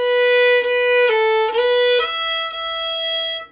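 A solo violin plays a reel phrase in which each quarter note is held long instead of cut short, bowed clearly and close by in a steady series of sustained notes without talking.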